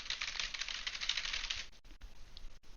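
Keys on a keyboard clatter in a quick, continuous run of typing, soft and fairly close, then stop briefly with a couple of isolated taps afterward.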